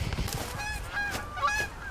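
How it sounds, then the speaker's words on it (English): Several geese honk nearby in quick overlapping calls, nasal and repeated, over a rough outdoor background, with no one speaking. "when the geese shut up"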